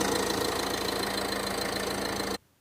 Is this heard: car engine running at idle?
yes